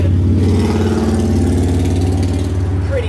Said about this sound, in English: Sorry about the big motorcycle.